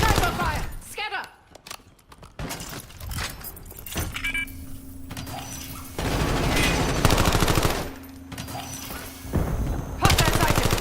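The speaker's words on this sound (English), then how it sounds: "Sniper fire." Sniper fire in an online shooter, heard as sharp shots and bursts mixed with a busy game soundscape, explosions and a steady tone, with game voices calling out over it.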